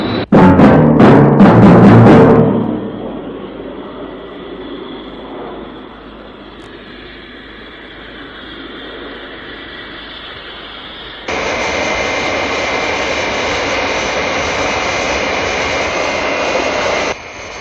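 Aircraft engine roar from the 1967 Captain Scarlet puppet series: a loud pulsing burst, then a lower steady engine drone, then a sudden jump to a loud, even, jet-like roar that holds to the end.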